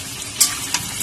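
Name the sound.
frying sliced onions and potatoes in a pan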